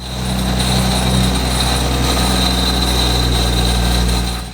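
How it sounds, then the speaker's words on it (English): A steady, loud engine drone with a low rumble and a thin high-pitched whine running throughout, continuous and unchanging, from a failing turbo in a BMW E90 335i with the N54 engine. "there was like this weird sound coming from the engine bay"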